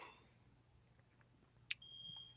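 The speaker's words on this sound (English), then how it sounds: "this thing's gotta stop beeping" One short electronic beep sounds faintly in a quiet room, followed by a thin, steady tone.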